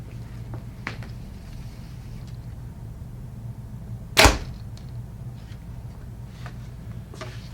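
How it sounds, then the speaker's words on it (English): A Bowtech compound bow fires a single arrow outdoors with one sharp, loud release snap, set against a steady low background hum and a few faint ticks, with no speech. "Now I'm going to test the sound of each of these bows being shot with a decibel meter."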